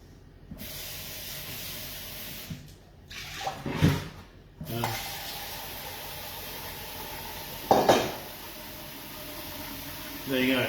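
Two litres of ice water pour into a small container in several hissing, splashing bursts separated by pauses, close and moderately loud.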